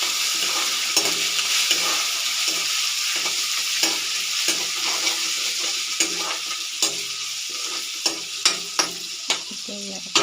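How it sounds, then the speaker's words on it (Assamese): Ginger, garlic and dried chillies frying in a pan give a steady, loud sizzle throughout, with a spatula scraping and clicking against the pan more and more often toward the end. No one speaks. "এতিয়া ইয়াত আমি পিচি থোৱা আদা আৰু নহৰুখিনি দি দিম আৰু শুকান জলকীয়াকেইটাও দি দিছোঁ।"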